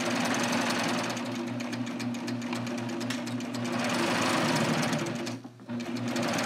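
A serger sewing machine stitches straight off the edge of batik fabric with a fast, steady mechanical hum and clatter, close and loud, pausing briefly near the end before running on.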